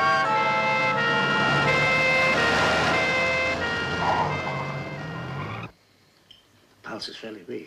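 A loud ambulance siren wails continuously with rising and falling tones in a dramatic scene, then cuts off abruptly, leaving a few faint scattered noises.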